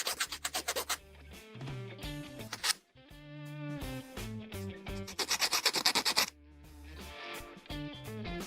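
Plastic part of a 1/144 HG Bandai Gundam model kit (RGM-96X Jesta Cannon) being filed to remove gate nubs along a curve, with close, bursty rasping strokes in quick runs and brief pauses.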